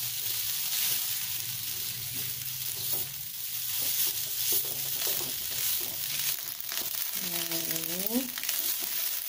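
Fried chicken sizzles and crackles steadily in a hot pan with chili, with stirring scrapes and a brief rising tone near the end.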